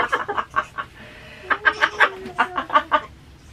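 A pet bird wrapped in a towel gives a run of harsh, repeated squawks and clucking calls, close and fairly loud, in two bursts with a short pause between them.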